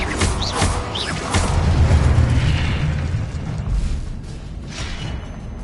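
Confringo blasting spell explosions in Hogwarts Legacy, a series of loud booming bursts with crackling debris and rumbling tails, close and forceful with no voices.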